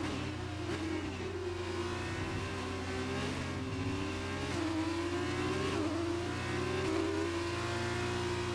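F2 race car engine in the F1 2019 video game, a loud sustained whine rising and falling through repeated gear shifts, with the car running a turbo problem.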